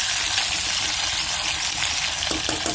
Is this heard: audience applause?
no